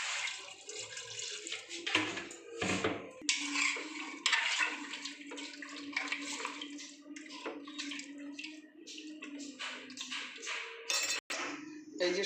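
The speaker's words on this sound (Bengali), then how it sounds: "আমি জল দিয়ে দেবো।" Water pours steadily into a cooking pot holding turmeric, salt, vinegar and bay leaves for a vegetarian mutton-style kosha, a continuous close splashing rush lasting the whole stretch.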